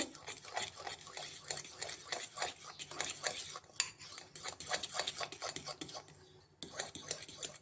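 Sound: mixing batter with Eno by hand

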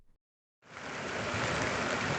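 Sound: flooded river flowing

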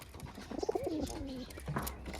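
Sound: pigeon cooing

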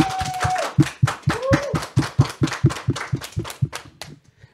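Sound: applause from studio audience

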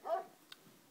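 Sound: dog barking, played sound recording

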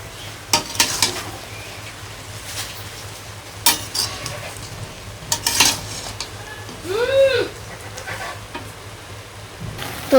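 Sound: taro leaves boiling in a wok

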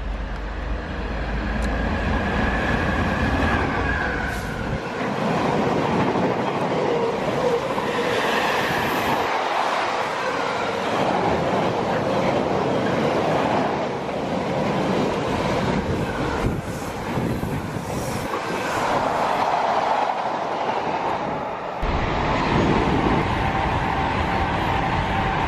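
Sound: train ride to Ealing Broadway via Euston

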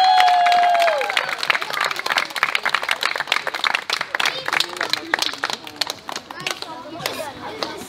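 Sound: audience applause for magicians at a circus

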